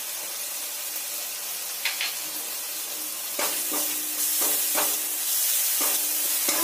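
Ginger paste sizzles with Kashmiri chilli powder and spices in a hot pan for a yogurt okra dish, a steady bright frying hiss broken by several sharp scraping stirs that grow louder toward the end.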